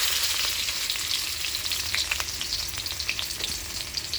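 Onion fries in a small amount of oil in a wok, a dense, continuous crackling sizzle heard up close and alone.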